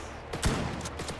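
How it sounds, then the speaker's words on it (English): Gunfire in the video game S.T.A.L.K.E.R. GAMMA: a sharp nearby shot followed by a few quicker, fainter cracks within about a second, with no voices over it. "Quit shooting at me."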